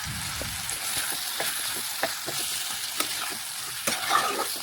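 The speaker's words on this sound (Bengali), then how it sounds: "বেশ কিছুক্ষণ সময় নিয়ে মশলার সাথে মেটেগুলো মিশিয়ে আমি একটু রান্না করে নিচ্ছি।" Goat liver (mete) cooking with fried spices in a pan, steady crackling sizzle broken by repeated spoon scrapes and stirring clicks, near and continuous with no voices.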